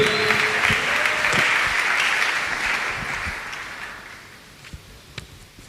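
A church congregation claps in sustained applause that gradually fades away, ending in a few scattered, isolated claps.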